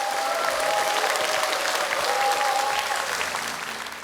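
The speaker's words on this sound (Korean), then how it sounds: "큰 박수로 환영해 주시기 바랍니다." A seated audience at a public lecture concert gives sustained welcoming applause, dense and steady throughout before tapering off slightly at the end.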